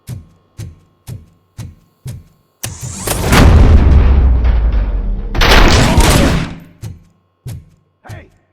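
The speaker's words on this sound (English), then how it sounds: "Gunshots?" Gunfire in the video game Robocop: Rogue City, a series of evenly spaced sharp shots that give way to a long roaring burst of heavy blasts, then resume as single spaced shots.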